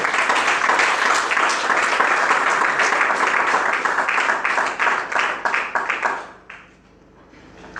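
A church congregation gives a loud, dense round of applause during a sermon, many hands clapping steadily before it tapers off quickly into quiet room tone.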